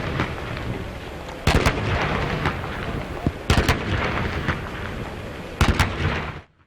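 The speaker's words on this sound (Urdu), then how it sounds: "معزز مہمانوں کی آمد پر 21 توپوں کی سلامی پیش کی گئی" Cannons fire a 21-gun artillery salute welcoming visiting dignitaries at an official ceremony: three loud, sharp blasts spaced about two seconds apart, with a rumbling, noisy outdoor background between them.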